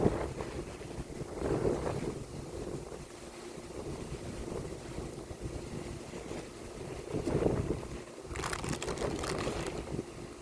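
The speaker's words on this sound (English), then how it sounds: "the wind is starting to pick up" Wind gusts outdoors as a storm picks up, a steady broadband rush and buffeting against the microphone with louder swells partway through and near the end, no voices.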